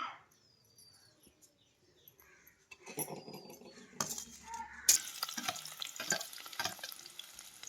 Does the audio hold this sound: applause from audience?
no